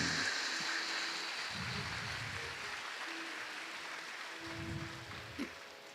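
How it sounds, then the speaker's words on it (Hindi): Audience applause at a spiritual satsang gathering, a soft continuous patter of many hands clapping that fades gradually, heard at a distance. "हमारी मातृशक्ति के सम्मान में हम सब मिलकर विशेष तालियों की गड़गड़ाहट कर रहे हैं।"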